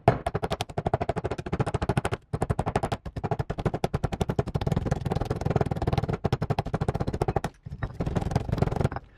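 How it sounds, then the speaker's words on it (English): Brittle, explosive chunks of watercolor pigment are tapped and crushed in rapid bursts of sharp, close clicks, with brief pauses between the rolls of taps. "I tend to just try and tap them down into small chunks before we start like a circular grinding motion."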